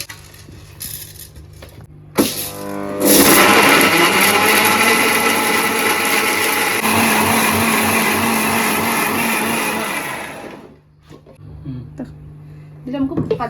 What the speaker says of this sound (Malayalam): പച്ച മിക്സിയിലിട്ട് അടിക്കുക.